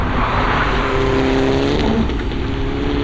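A Mitsubishi Outlander Turbo SUV is driven hard on a race track, its engine roaring loudly and continuously with tyre and road noise heard from close by, steady throughout with no talk.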